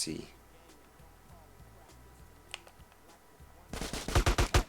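Gunfire in the video game GTA San Andreas: a burst of loud, rapid machine-gun shots near the end, after quieter game ambience with a few scattered distant pops and voices talking.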